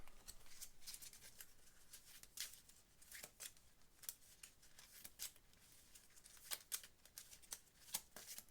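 Playing cards are shuffled for a solo board game, quiet, close riffles and flicks in quick irregular bursts against a near-silent background.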